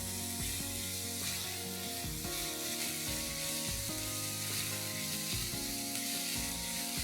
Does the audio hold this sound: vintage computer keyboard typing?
no